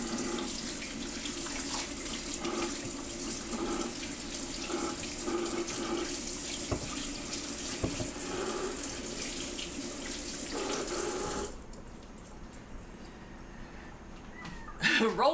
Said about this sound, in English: I'm going to wash my hands because they're getting really sticky and scraping them off.